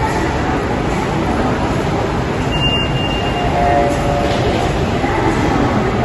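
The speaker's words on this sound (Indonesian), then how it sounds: "masih ramai suasana di stasiun MRT Plaza Indonesia Bundaran HI" A busy MRT subway station at Bundaran HI in Jakarta, with a steady loud rumble of moving train cars and station crowd noise, brief squeals and tones partway through, and no clear speech.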